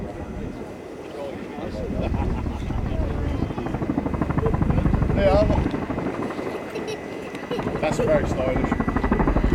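An RAF Chinook helicopter carrying an underslung quad bike during a role demo: heavy rotor thrum pulses steadily and close, with wind buffeting the microphone. A person speaks briefly over the engine noise.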